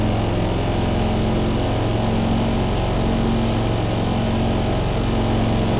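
A Corvette C2 with an L84 engine racing in a video game, a loud, constant buzzing engine drone held at high revs without pause, with no talking.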